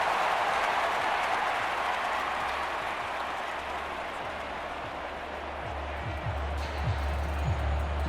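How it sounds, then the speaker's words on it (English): A large football stadium crowd at a Denver at Minnesota preseason NFL game roars steadily and loudly through a big third-down play, a dense continuous cheer with no break. "the crowd getting into it as we come up on a big 3rd down"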